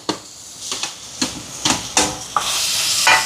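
Onions sauté in a pan for prawn curry while a spoon stirs them in roughly seven distinct scraping strokes, close and clear, with the hissing sizzle swelling louder toward the end; no one speaks.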